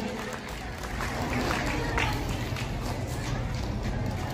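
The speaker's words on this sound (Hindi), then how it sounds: "आइएगा एक बार जोरदार ताली बजाएंगे" Strong clapping from an audience for performers at a record attempt day stage program, a continuous dense roar of hands that stays loud and even throughout, with a murmur of crowd noise underneath.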